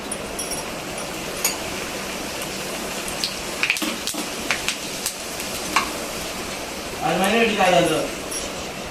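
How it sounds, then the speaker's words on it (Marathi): Bhatura frying in well-heated oil: a constant sizzling hiss with sharp clicks and pops, someone talking over it, and a brief louder burst of bubbling near the end as dough meets the oil. "कधी पण भटोरे आपण तळणार तर त्यावेळेस काय तेल छान उखळलेलं पाहिजे"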